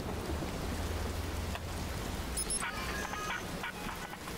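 Steady rain in the Watch Dogs video game, a soft, continuous hiss with a low rumble like distant thunder and a few faint chirps over it.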